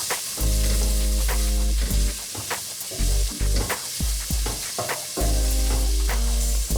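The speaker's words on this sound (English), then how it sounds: "And just stir that around for a while." Moroccan tagine paste, a tablespoon stirred in a pan, gentle sizzling with intermittent scraping and clinking of the spoon against the pan, close and loud, alongside a steady low hum.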